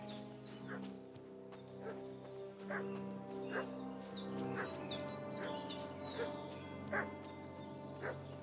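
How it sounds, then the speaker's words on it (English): A dog barks repeatedly in the Kingdom Come Deliverance 2 game world, a string of sharp yips and bow-wows spread over a steady musical background, fairly close and insistent. "What's that dog making such a fuss about?"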